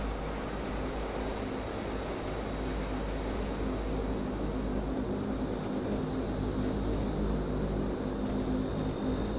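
Steady engine drone of a DHC-8 Q400 turboprop airliner taxiing in a flight simulator game, a continuous low hum with a faint high whine, constant and alone without any voices.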